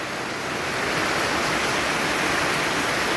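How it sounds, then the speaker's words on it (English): Floodwater runs and overflows around a house after heavy rain, a steady, loud, broadband rush like a small waterfall that holds constant throughout with no voices. "So there's water all running down here."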